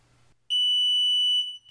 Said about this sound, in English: pressing and holding until you get a beep